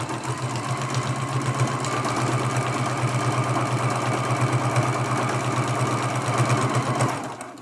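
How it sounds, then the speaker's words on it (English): Stitching steadily around a quilted cookie-cutter ornament, a sewing machine whirs at an even fast pace for about seven seconds, close and fairly loud, then stops abruptly. "And now we're sewing. We're just going all the way around this ornament."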